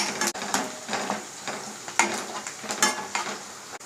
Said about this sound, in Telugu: ఇందులోనే సన్నగా కట్ చేసుకున్నటువంటి పచ్చిమిర్చి ముక్కలు వేసుకొని బాగా కలుపుకొని ఫ్రై చేసుకుందాం.